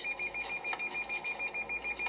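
Rapid, evenly spaced electronic beeps from a Lexus collision sensor warning repeat nonstop at a steady rhythm, fairly faint and high-pitched.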